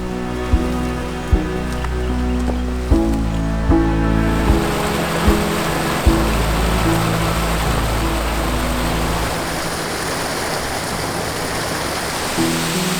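Waterfalls on Gooralong Brook in Kitty's Gorge, Serpentine National Park near Jarrahdale, give a steady, fairly loud rushing hiss of falling water that swells in after soft tonal sounds with light clicks.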